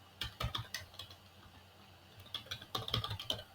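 Typing C++ loop code on a computer keyboard, a quiet, irregular patter of key clicks in short bursts with a pause in the middle and no talk.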